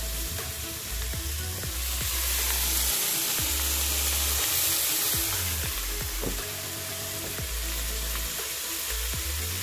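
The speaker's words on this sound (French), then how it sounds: "Et on remue." Shrimp sizzling in a hot pan for a French shrimp pasta with a steady, hissing fry, while a utensil stirs and scrapes the pan in repeated short strokes close by.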